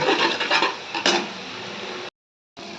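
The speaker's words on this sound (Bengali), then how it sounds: "একটু মশলাটাকে কষিয়ে নেব।" Spice paste with cumin powder being sautéed in a pan for a lentil-fritter curry, loud close scraping and clattering of a spatula against metal, stopping briefly before resuming.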